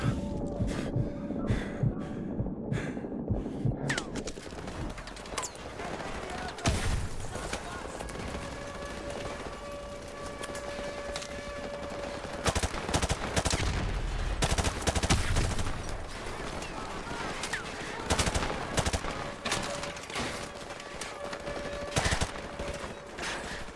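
Gunfire in Call of Duty Modern Warfare Remastered, scattered bursts and shots mixed with running footsteps and dense battle noise throughout, with people talking over it.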